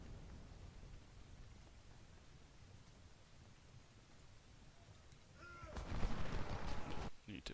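Artillery fire in a Civil War strategy game at Second Bull Run, with a hissing battle ambience building into a loud cluster of booming cannon blasts and crackling reports near the end.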